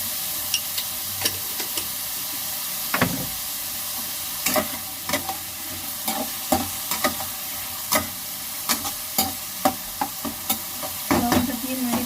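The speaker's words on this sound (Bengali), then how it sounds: "লবণটা দিয়ে নেড়ে করে ঢেকে দেব সিদ্ধ হওয়ার জন্য।" Vegetables with salt frying in a pan for fried rice, a steady sizzle under repeated sharp scrapes and clacks of a spoon stirring against the pan, close and fairly loud, with no talking.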